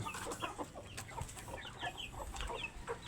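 Several chickens cluck and chatter in quick, uneven bursts, fairly close, with a low background murmur and no clear speech.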